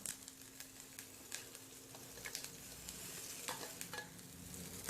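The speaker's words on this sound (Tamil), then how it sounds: "ப்ரானை சேர்த்து மிதமான தீயில் நல்லா ரோஸ்ட் பண்ணிடுங்க." Cooked prawns roasting over medium heat in a lightly oiled pan for prawn varuval, a soft steady sizzle broken by repeated scraping stirs and light ticks of the spatula.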